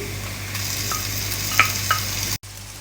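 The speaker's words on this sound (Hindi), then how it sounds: "तो यहाँ आप देख सकते हैं प्याज हमारा हल्का सा सौते हो रहा है" Soft continuous sizzle of onions sautéing in a pan, with a couple of faint crackles and a brief cut near the end.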